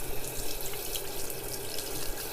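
Close, steady rush of tap water into a sink as water is collected in a hand to dampen a makeup brush, a continuous splashing hiss with no talking.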